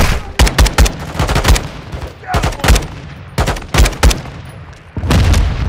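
Gunfire in Call of Duty Modern Warfare 2 (2022) on PC comes in loud, close bursts of rapid automatic shots separated by short pauses, with a heavier thump near the end.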